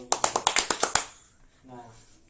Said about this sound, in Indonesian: Tepuk tangan ya, kasih applause dulu.